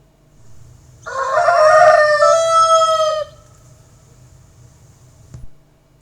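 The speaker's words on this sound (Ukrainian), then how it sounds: "Так, це півник. Ось послухайте, як він співає." A single loud rooster crow rings out for about two seconds over quiet background hiss, followed by a brief click.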